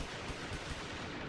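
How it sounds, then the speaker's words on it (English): Rapid rat-tat-tat gunfire effect from a Squid Game themed Halloween light show at a house in Michigan, a dense continuous burst of automatic fire heard steadily throughout, moderately faint and without talk. "The over-the-top display at a house in Michigan even comes with the rat-tat-tat of gunfire."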